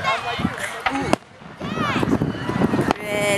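Fireworks burst at a Milk Days fair near a Ferris wheel, sharp bangs and crackles popping out over a crowd's murmur and nearby voices, with one loud crack near the middle.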